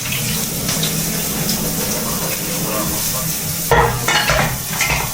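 Green chili sizzling and frying in hot oil in a pan for poha, a loud steady crackle throughout with occasional stirring scrapes toward the end.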